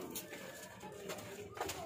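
Pigeons coo softly from a Lahore rooftop loft, faint low murmurs in a brief stretch with a little background noise.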